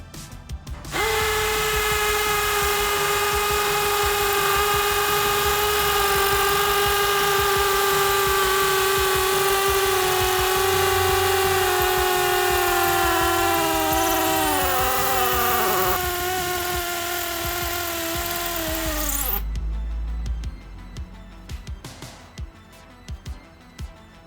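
A DeWalt hammer drill with a 3/8 by 6 inch Diablo multi-material bit whines steadily for about twenty seconds, its pitch sagging as the bit bites in, then stops abruptly, leaving faint rattling.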